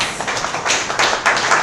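A short, dense run of hand clapping from a seminar audience, steady and moderately loud, close by with no talking on top.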